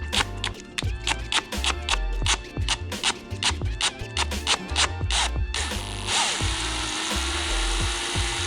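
An easy out bit turning a drilled-out corroded bolt on a Jeep JKU, a loud rapid run of ratcheting clicks with a deep rumble beneath, giving way to a steady whirring power-tool drone near the end.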